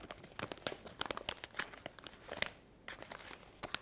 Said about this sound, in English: Another piece of tape here.